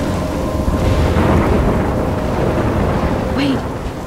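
Thunderstorm in the Life Is Strange video game, a loud, steady rumbling roar of rain and thunder filling the whole clip, with a brief faint tonal sweep near the end.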